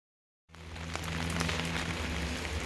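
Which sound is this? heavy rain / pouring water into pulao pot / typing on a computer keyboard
heavy rain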